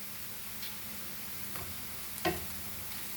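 Green chilies frying with cooked mutton for dal gosht, a soft steady sizzle in the pan with a couple of brief scraping stirs and one sharper clatter near the end, no talking.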